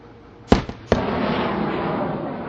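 Missile launch at a Pakistan Army Raad al Barq exercise: a sharp double blast followed by a second crack, then a sustained roaring rush trailing off, fairly close and loud with no talk.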